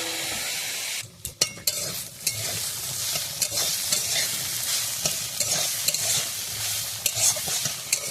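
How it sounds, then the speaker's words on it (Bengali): Cabbage fries in a pan with a steady, close hissing sizzle, broken by the repeated scrape and clatter of a spatula stirring it, and no voices are heard. "বন্ধুরা হয়ে গেছে আমার কপি ভাজা, এখন নামিয়ে নিলে হয়ে যায়।"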